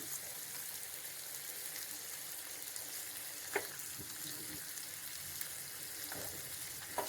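Peanuts frying in a pan over a medium flame, a faint steady sizzle with a few soft clicks and taps of utensils, no voices.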